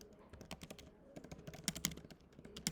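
Fingers type on a computer keyboard, entering a search keyword: a quiet, rapid run of clicky keystrokes with short pauses, heard close and alone.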